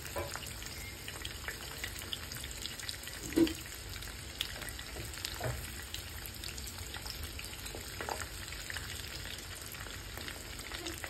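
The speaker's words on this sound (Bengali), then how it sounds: "এখন এটা তেলের মধ্যে ছেড়ে দেব। এটা আগে থেকে গরম করে রেখেছি।" Food fries in pre-heated oil with a soft, continuous sizzle and scattered small pops and crackles, plus one louder spatter partway through. It is moderately quiet and there is no talk.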